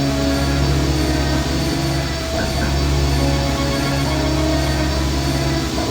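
A machine engine in the point-and-click game I Have No Mouth, And I Must Scream, with its wiring shorted by metal and failing: a loud, steady droning rumble with layered hum, heard alone without voices.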